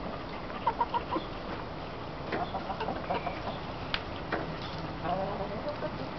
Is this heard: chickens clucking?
yes